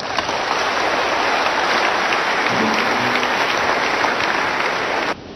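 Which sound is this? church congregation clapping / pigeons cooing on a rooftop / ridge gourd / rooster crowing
church congregation clapping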